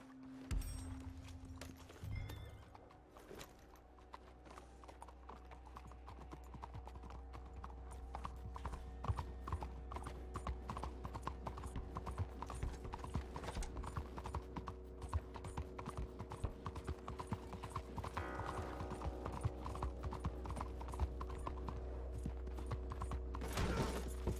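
Horse hooves clip-clop steadily in Red Dead Redemption 2, a brisk regular trot close by with faint creaks and ambient rumble beneath, no talking.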